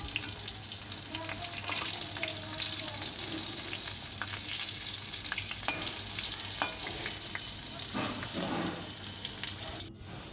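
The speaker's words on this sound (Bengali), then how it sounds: "পটল ভাজার পর দেখি অনেকটা পরিমাণে তেল রয়েছে, সেই তেলে কিছুটা পাঁপড় ভেজে নেব" Papad frying in oil left over from frying pointed gourd in a village kitchen, a continuous close sizzle and hiss with light crackles and occasional stirring scrapes throughout.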